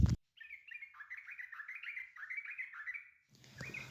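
A yellow-vented bulbul, the trucukan songbird, chirps a bright, rapid warbling run of notes up close and clear against near silence, followed by a brief burst of other noise at the end.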